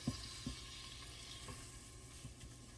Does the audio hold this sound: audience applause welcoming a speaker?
no